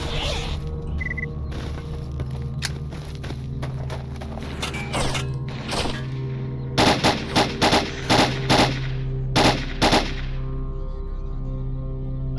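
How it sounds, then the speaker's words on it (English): Sniper and rifle fire echoes through a STALKER: Old World Addon game level as a series of sharp cracks, some spaced apart and others bunched in quick clusters, over a low steady ambient hum. "I heard a sniper."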